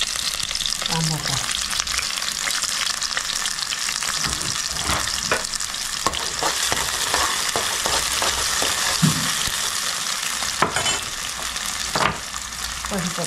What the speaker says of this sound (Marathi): चांगलं कांदे ना भाजा करायचं लाल वगैरे.